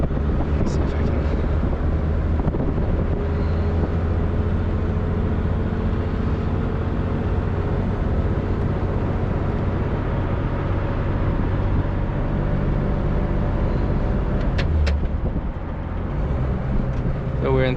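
A 1941 Lincoln car driving in third gear, with a steady low engine drone and road and wind roar running continuously, plus brief clicks and knocks near the end.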